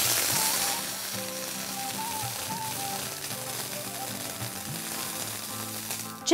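A few tablespoons of water go into a pan of sizzling tadka made with dry red chilies and curry leaves. A steady fry hiss continues under background music and ends in a short burst.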